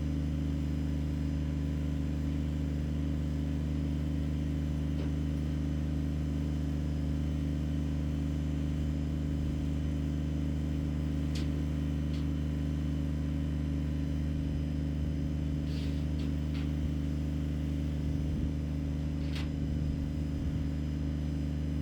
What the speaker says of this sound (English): hook up with the chain and then hook to the tractor so that we can go and drag it out